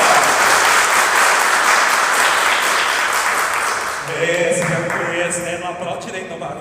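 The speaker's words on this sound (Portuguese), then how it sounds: "Vamos dar uma salva de palmas para a palavra de Deus." A church congregation breaks into loud, dense applause for the word of God, then it thins and fades as a voice begins speaking over the last scattered claps.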